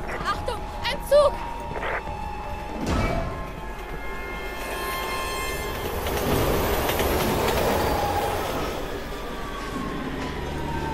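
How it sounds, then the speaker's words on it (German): A train rumbles past with rolling clickety-clack and metallic squeals in the Resident Evil 6 game, growing into a steady loud roar, with some speech and sharp game sounds at the start. "Achtung, ein Zug!"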